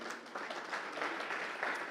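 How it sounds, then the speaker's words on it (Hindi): Studio audience applauds for former Indian cricketer Virender Sehwag as he appears as a guest on a Hindi chat show, a steady, fairly close wash of clapping that runs unbroken throughout. "सब बैठे हैं, तालियां बज रही हैं"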